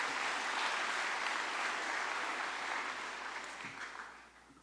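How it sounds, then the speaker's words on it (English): Quiet, distant applause from a high school commencement audience, a steady wash of clapping that fades out over the last second. "Give her a round of applause,"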